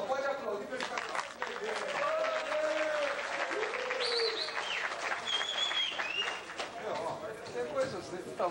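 Audience applause at a drum workshop in Araraquara, a steady wash of clapping running throughout under raised voices and some whooping, moderately distant and fairly quiet overall.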